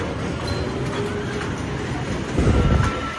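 The 123-year-old Bimmelbahn, a small old Deutsche Reichsbahn train at the Chemnitz Christmas market, rumbles and clatters loudly nearby, swelling toward the end amid crowd noise and faint voices.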